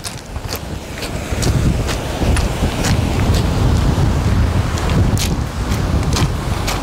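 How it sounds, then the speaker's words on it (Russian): Sea waves on a pebble beach in Sitonia, Greece, a loud, steady wash of surf with wind buffeting the microphone and faint repeated ticks like stones rattling, continuous throughout. "Волны поднялись."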